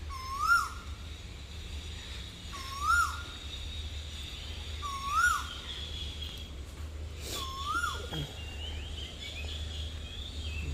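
A bird repeats the same rising, whistled call four times at steady intervals, distant and clear over a low, steady hum of mangrove forest ambience in Phuket.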